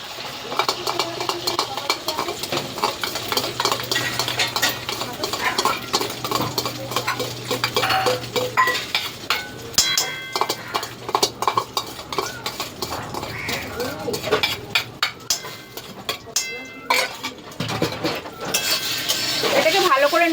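An egg frying in hot oil in a wok in a home kitchen gives a steady sizzle across the clip, mixed with the clatter and clinks of utensils against the pan.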